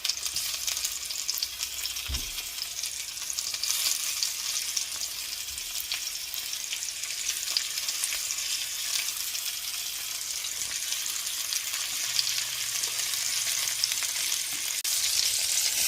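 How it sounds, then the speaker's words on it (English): Shrimp sizzle and fry in hot oil in a pan, a continuous bright crackling hiss with occasional soft clinks as pieces are added, steady and close throughout. "I'm just going to be taking my crustaceans one at a time and add them to my oil"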